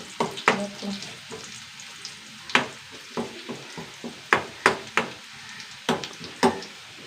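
Curry ingredients frying in a pan, a light sizzle under repeated sharp clacks and scrapes of a spoon against the pan at an irregular rhythm, fairly close.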